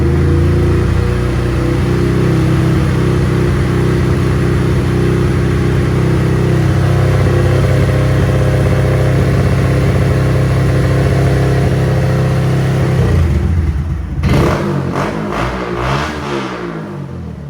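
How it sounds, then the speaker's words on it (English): A Honda Grom 125 motorcycle engine held at steady revs, loud and close, with a strong harmonic drone that climbs in pitch before dropping off sharply near the end, with no voices. "The bike sounds actually pretty good for 125."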